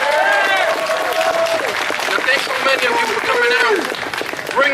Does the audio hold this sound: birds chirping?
no